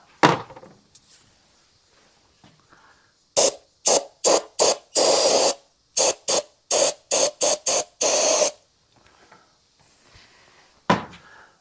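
Brake cleaner sprayed onto a 1986 Mercury 90hp outboard motor part, heard as a rapid series of about a dozen short hissing aerosol bursts, a few longer blasts among them, close and loud with no talk.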